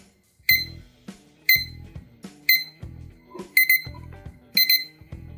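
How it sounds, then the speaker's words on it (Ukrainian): A TS-S63 clock's alarm beeps in a steady repeating pattern, bright electronic chirps with a thudding mechanical pulse underneath, about once a second, close and clear. "Ось такий звук має будильник."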